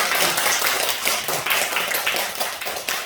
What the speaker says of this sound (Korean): 환영회로 우리 박수를 하겠습니다.